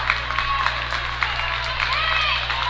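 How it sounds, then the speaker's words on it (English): Home crowd applauding the Somerset defense at a varsity girls' regional final basketball game against Altoona in a gym, a steady wash of clapping and cheering with squeaking sneakers, under a commentator's voice. "Somerset getting a round of applause on their defense now"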